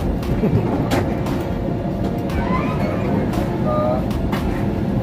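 Rumbling, rattling noise of a train coming to a stop on a Pune to Delhi railway journey in a first-class coach, heard from inside as a continuous loud drone with clanks and faint squeals.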